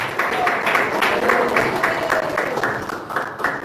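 A church congregation claps in a steady, fast rhythm at a Pentecostal service, the sound moderately loud and continuous with a crowd murmur beneath.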